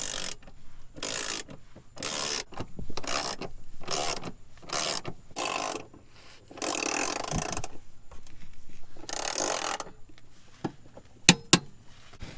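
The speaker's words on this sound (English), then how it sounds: "We're gonna go ahead and snug these all the way down, make sure that they're tight." Rapid bursts of ratchet clicking as bolts on an S550 Mustang transmission cross member are snugged down, roughly a dozen short rhythmic runs separated by pauses, ending with a couple of sharp metallic knocks.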